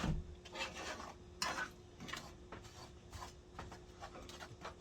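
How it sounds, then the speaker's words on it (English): A spoon scrapes and stirs chocolate gravy around a pan on the stove in repeated close, uneven strokes with light metallic clinks, no talking over it. "Now it's a constant stir. You got to keep stirring."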